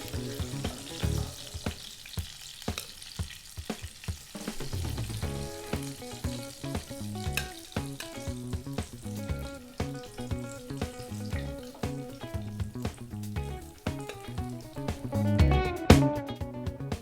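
Fish pieces frying in hot oil for a spicy fish curry, a steady close crackling sizzle that runs throughout with occasional stirring scrapes and clatter, no voices.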